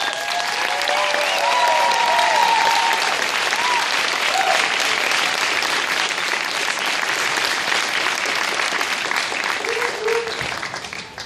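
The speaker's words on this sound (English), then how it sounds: "Let's give everybody one last round of applause." A graduation ceremony audience gives a loud, sustained round of applause, dense clapping from a large crowd that fills the whole stretch and fades slightly at the end.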